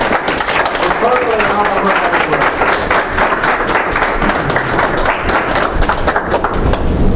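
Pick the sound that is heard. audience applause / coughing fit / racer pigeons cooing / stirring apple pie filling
audience applause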